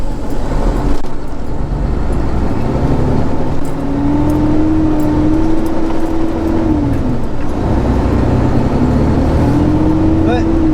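A truck drives a short stretch of road with its engine droning steadily up close, the pitch climbing and falling through gear changes, under a constant rumble of road noise.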